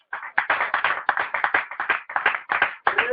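A church congregation breaks into rhythmic clapping, about a dozen sharp bursts in quick, steady succession filling the hall, loud and close with no talk over it.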